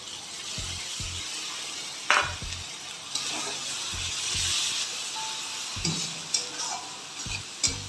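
Ginger-garlic paste fries with onions in a pan for pav bhaji, a soft background sizzle broken by repeated low thuds and scrapes of a spoon stirring, close and moderately quiet.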